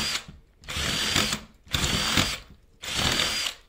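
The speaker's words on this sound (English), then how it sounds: "Just give it a wee drill extra just to clear the swarf out." A power drill cuts a slot in a window frame for a trickle vent, whirring in three sustained bursts with short pauses between, close and fairly loud.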